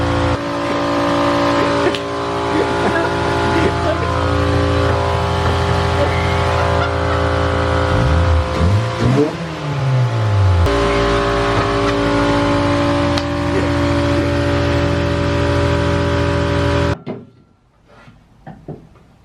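A car engine idles steadily, then revs up and down in a rising and falling sweep midway, before cutting off abruptly into near silence.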